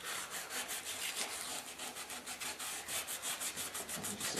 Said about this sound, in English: We just want to buff it up, and we might take some of that rust off in the process